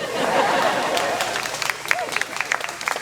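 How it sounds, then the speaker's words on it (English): Wedding guests at Jeff and Laurie's reception cheer and applaud, a roomful of clapping that swells at first and then thins into scattered, individual claps near the end, with light chatter mixed in. "You can cheer, it's okay."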